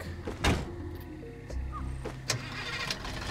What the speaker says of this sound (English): Now this is a truck.